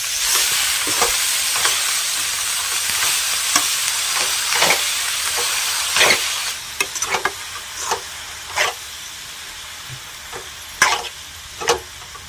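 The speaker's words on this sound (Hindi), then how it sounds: "तो हमने इस तरह से मेथी की भाजी को डाल लिया है और चलाते रहेंगे हम थोड़ा थोड़ा करके इस तरह से" Fenugreek leaves being stirred into fried potatoes and beans in a hot wok, with steady sizzling throughout and repeated scraping strokes of the spatula, loud and close, no talking.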